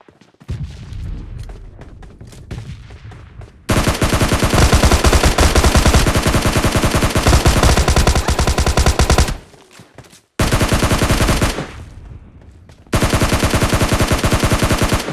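Gunfire from the PUBG Mobile Lite battle royale game, long loud bursts of rapid automatic fire broken by short pauses, close and dominant.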